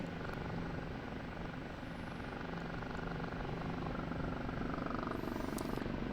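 OH-58D Kiowa Warrior helicopter in the DCS flight simulator, a steady close rotor and engine drone that holds evenly throughout while the aircraft dives, with no talking.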